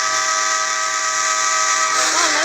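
Train simulator video game train running along the track: a steady, loud mechanical rumble with tonal whistle-like harmonics throughout and a rising pitch sweep near the end, no talking.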